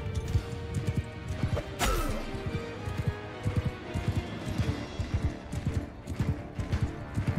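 Horse hooves pound in a rapid, uneven clip-clop during a battle in Mount and Blade 2, fairly loud and close, with a sharp crash-like burst near two seconds and rumbling game noise throughout.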